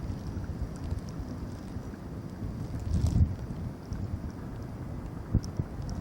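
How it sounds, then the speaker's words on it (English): Wind gusting through a Richmond, Virginia neighborhood during a snowstorm, a low rumbling roar with buffeting on the microphone that swells briefly midway, no talking. "Listen to the wind."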